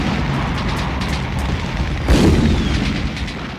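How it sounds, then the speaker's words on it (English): A heavy cannon or explosion boom lands midway through a constant low, rumbling battle din, with fainter distant thuds around it and no voices. "In the distance, explosions and cannon fire could be heard."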